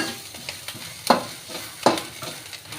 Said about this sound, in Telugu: ఆనియన్స్ అంతా గోల్డెన్ కలర్ వచ్చే వరకు ఫ్రై అవనిద్దాం